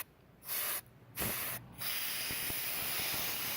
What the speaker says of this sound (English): I'm going to get an air hose and see if I can blow some of this out